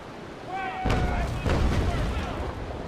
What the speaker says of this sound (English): In the meantime, I might hit him with my bow chasers. Fire!